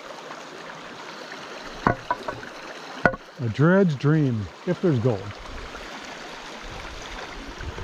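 A rocky creek in Arizona over cracked bedrock, water flowing and trickling in a constant soft wash, with someone talking over it midway.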